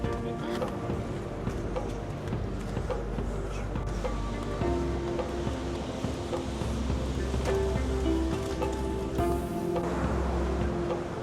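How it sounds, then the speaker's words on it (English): Ocean surf crashing far below the Uluwatu cliffs in Bali, a steady broad wash of waves heard from high up, with wind and faint background voices layered over it. "Look at those waves."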